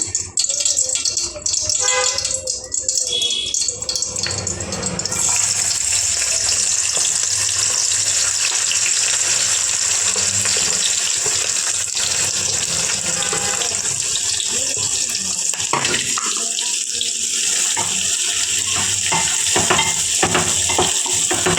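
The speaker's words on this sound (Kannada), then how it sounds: "ಇವಾಗ ಡ್ರೈ ಫ್ರೂಟ್ಸ್ ಹಾಕೊತೀನಿ ಫ್ರೈ ಮಾಡ್ಕೊತೀನಿ" Dry fruits frying in hot ghee, a continuous loud sizzle with occasional stirring rattles against the pan, no voices.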